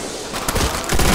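Rapid gunfire from the World War II shooter game Call of Duty: World at War, a dense, loud burst of shots layered together over just over a second, with no talk.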